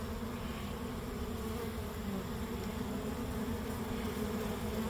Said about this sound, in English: see if these bees, all these bees that are in flight are going to land somewhere.